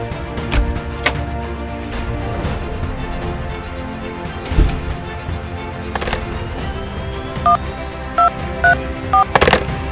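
A telephone number is keyed in with a short run of evenly spaced dialing tones near the end, following a stretch of background rumble and thumps in a Hindi film scene.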